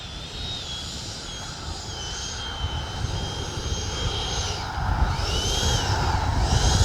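A Freewing F-22 90mm electric ducted-fan RC jet on a 6S setup whines steadily overhead on its landing approach, the high fan tone swelling and bending as it passes, over wind and low rumble, growing louder toward the end.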